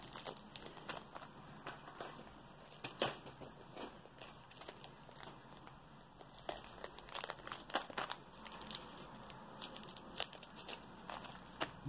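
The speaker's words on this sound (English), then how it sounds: "I'm just gonna cut the tape off of all of these so this video is not so long." Scissors snip and pull tape from individually packed plastic jewelry bags, giving irregular close crinkling, rustling and sharp cutting clicks throughout with no talking.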